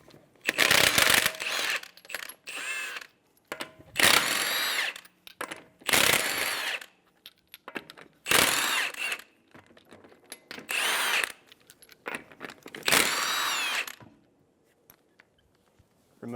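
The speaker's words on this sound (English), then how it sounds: "Using a 21mm socket, remove the lug nuts." A power tool with a 21mm socket zips lug nuts off a 2007-2011 Toyota Camry front wheel, giving loud, close bursts of ratcheting whirr separated by short pauses and clinks as the nuts come free.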